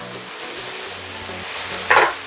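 Chicken pieces frying in a pan with onions just added on top, a steady broad sizzle throughout with a brief louder hiss near the end, no talking.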